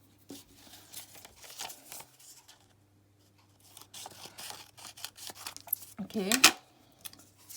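Scissors cutting paper to form the base of a handmade clay house, with a series of soft snips and one sharper, louder cut near the end, plus a brief spoken word.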